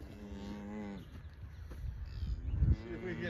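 Weaned young bull calves of about seven months moo close by in hoarse, drawn-out calls, with one long bellow at the start followed by rougher grunting moos, and a person speaks softly nearby.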